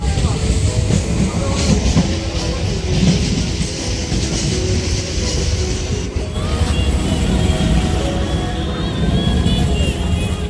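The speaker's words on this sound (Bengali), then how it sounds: "এরই মাঝখান দিয়ে আমরা লোকাল ট্রেনে ছুটে চলেছি কাকদ্বীপের উদ্দেশ্যে" A local train runs along the rails with a loud, steady low rumble and rattle heard from inside the carriage, the clatter of the wheels continuous throughout.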